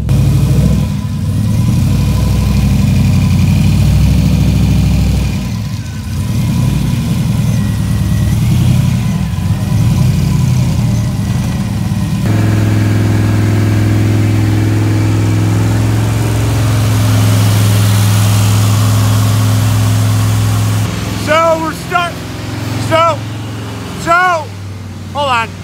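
A car in rough, poorly running condition is backed onto a dyno, its engine giving a steady low idle rumble with small revs throughout. It is joined near the end by brief tonal squeals and some indistinct voices.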